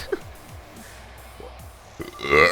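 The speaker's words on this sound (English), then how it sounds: "Oops, there's a burp." A single low, guttural burp rumbles close to the microphone, surrounded by a few short voiced sounds and then a louder vocal burst at the end.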